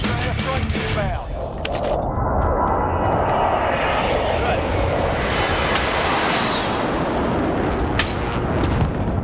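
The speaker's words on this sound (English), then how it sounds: "Be advised, friendly precision airstrike inbound." Jet aircraft roar in for a precision airstrike in Call of Duty Warzone, a loud sustained engine rush that swells and sweeps overhead, punctuated by distant booming blasts and scattered gunfire.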